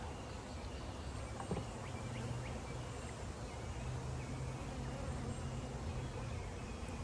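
Honey bees from a newly installed nuc hive, just fed one-to-one sugar syrup, hum in a steady, continuous drone close by, with low rumble underneath and no talking.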